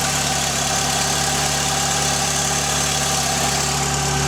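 Mk2 VW Golf engine idling on choke after sitting unused for a couple of weeks, a steady, continuous mid-pitched running hum with an even vibration throughout and no voices.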